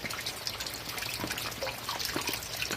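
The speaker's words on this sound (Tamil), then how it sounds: "உள்ள தண்ணி உழுகுது பாருங்க, தெரியுதுங்களா?" Water falling into a rainwater harvesting pit, a continuous splashing trickle with scattered drips, steady and moderately close, with no voices.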